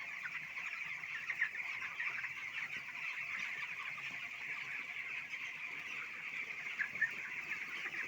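Broiler chickens in a poultry shed, two weeks old, make a dense, continuous chorus of soft clucks and peeps, steady and fairly faint, with no talking.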